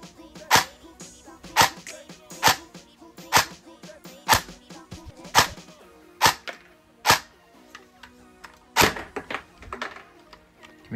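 Airsoft gun firing after a piston head fix, about a dozen sharp, fairly quiet snapping shots spaced roughly a second apart, close and alone without talk.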